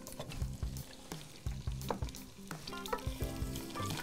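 Chopped onions sizzle steadily in hot oil for chicken al kabsa, with repeated spatula scrapes and stirring knocks cutting through the continuous frying hiss, close and fairly quiet, with no voices.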